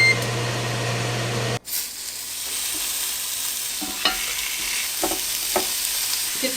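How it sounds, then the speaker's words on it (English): A Ninja Foodi Grill preheats on high with its fan running, a loud steady broadband whoosh that starts abruptly after a click and continues with faint small ticks, close and alone. "It sounds like a loud fan."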